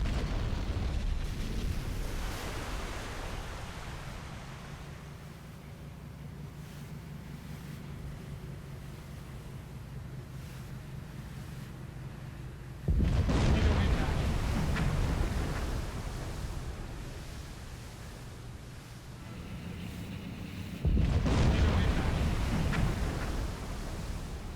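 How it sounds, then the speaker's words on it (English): Torpedo hits on a destroyer in the submarine game Silent Hunter 4 land as two heavy, roaring blasts, each a sudden loud surge of rumbling noise that swells and trails off over a churning sea-and-wind bed. "we've had 2 successful QT hits against the destroyer above us"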